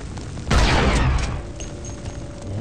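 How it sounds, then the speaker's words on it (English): Gunfire erupts in the video game Star Wars Republic Commando, a sudden loud burst of blaster shots and booms that decays into a lower rumbling game ambience. "Someone's shooting at me, and I can't tell from fucking where."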